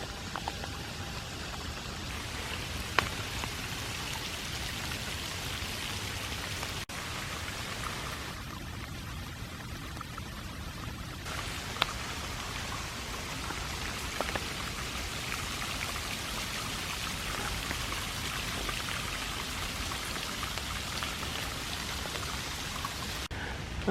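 Steady rain falls through a park on a dark, foggy morning, a dense, even patter of drops with a few sharper nearby drips, continuous and unbroken with no voices.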